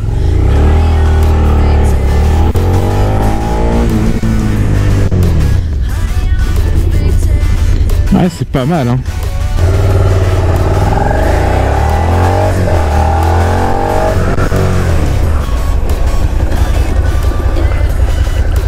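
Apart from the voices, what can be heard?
Suzuki SV650 motorcycle at full throttle, then brake test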